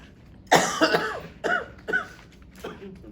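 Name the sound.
cough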